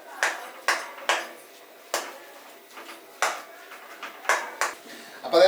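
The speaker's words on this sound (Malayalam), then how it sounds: "അപ്പൊ ഇനി ഇത് നല്ലതായിട്ടൊന്ന് ഇളക്കി യോജിപ്പിക്കട്ടെ." A spoon stirs a potato and white pea snack mixture with coriander leaves, ginger and chilli, giving a series of sharp, separate scraping clinks against the bowl about every half second to second, fairly close, with no talking.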